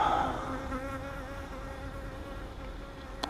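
Honeybees hum steadily around an open hive during an inspection, with frames of bees being shaken off; the drone is dense and continuous, close and moderately loud.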